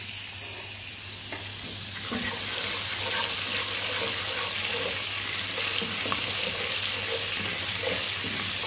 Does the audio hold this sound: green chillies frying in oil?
yes